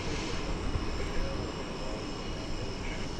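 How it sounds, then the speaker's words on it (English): An airliner landing far off on runway 17 Left at DFW Airport, a steady, smooth, distant jet roar that holds constant throughout with faint background hiss. "Landing all the way over there on runway 17 left on the east side of DFW"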